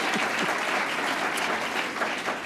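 Audience applause for Lucy Flores at a Democratic National Committee candidates' event, a dense, steady wash of clapping from a sizeable crowd, loud and close, with no voices over it.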